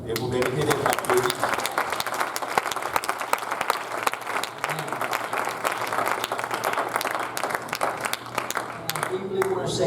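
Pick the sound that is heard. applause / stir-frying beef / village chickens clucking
applause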